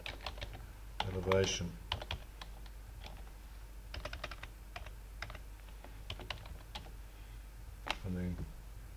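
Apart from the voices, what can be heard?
typing on a computer keyboard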